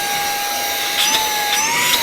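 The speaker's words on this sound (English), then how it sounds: "To use it as a vacuum cleaner, we long press here." A handheld cordless car vacuum cleaner, the M3 Ultra Black, runs close up with a steady high-pitched motor whine and airy whoosh, its tone shifting slightly near the end.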